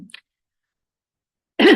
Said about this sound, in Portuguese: Desculpa, é um pouco pigarro aqui